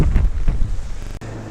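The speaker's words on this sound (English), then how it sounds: "where the wind is whipping" Strong autumn wind whipping off Lake Erie along the Geneva shoreline, buffeting the microphone with loud, gusty low rumbles that swell and ease for a moment before dropping out abruptly near the end. No voices are heard.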